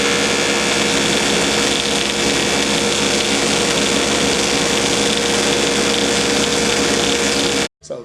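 A Woodmaster planer/molder runs at a steady, loud mechanical whine while cutting molding with a plywood shim screwed to the bed board, a continuous close drone that cuts off abruptly at the end.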